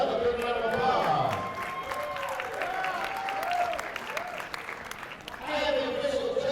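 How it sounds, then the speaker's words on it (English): Crowd applause and cheering for boxers after a bout at a WBC boxing event, a continuous roar of clapping mixed with an announcer's voice carrying over it and a swell of noise toward the end. "let's give these boxers another big round of applause"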